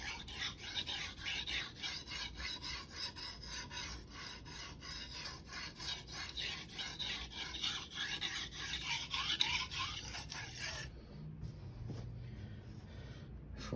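A Shirogami bunka knife is stroked back and forth across a Rika 5000 whetstone with light, flat pressure, giving a steady run of close rasping scrapes for about eleven seconds before stopping into near silence.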